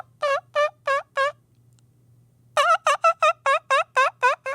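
A man imitates a turkey gobble with his voice, four quick rattling yelps, a short pause, then a longer rapid burst of about ten more, close and loud over a faint low hum.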